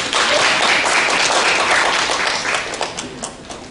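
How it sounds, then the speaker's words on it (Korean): An audience applauds a speaker after a digital content industry presentation, a dense, steady burst of many hands clapping that thins and fades toward the end. "큰 박수 부탁드립니다"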